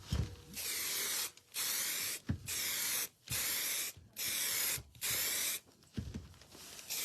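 Repeated bursts of spray hissing, each lasting about a second, separated by brief pauses, steady and close with no talking.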